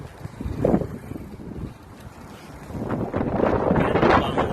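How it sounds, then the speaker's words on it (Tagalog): Strong gusting wind buffets the microphone outdoors in Jeddah, Saudi Arabia, during a bike ride, a steady low roar swelling in gusts with no talking. "Malakas yung hangin"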